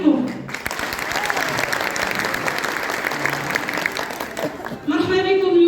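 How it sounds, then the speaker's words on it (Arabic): Big round of applause at a company awards ceremony marking five years in Morocco, a steady dense crowd clapping that holds for several seconds, then a voice starts up over its fading end. "تصفيقة كبيرة عليكم."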